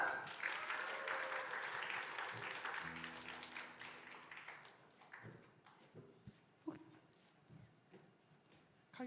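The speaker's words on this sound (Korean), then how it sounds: "네, 박수!" A congregation at a Sunday church service applauds to bless a young woman leaving for a student exchange in Germany. The clapping starts dense and loud, then thins and fades over several seconds, leaving a few scattered claps.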